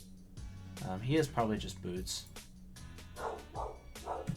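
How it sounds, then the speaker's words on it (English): Dogs bark in the background of a home while someone talks over a Pokémon draft league Wi-Fi battle; the barks come in a few short bursts, fairly faint and partly masked by his steady speech. "Excuse my my dogs in the background."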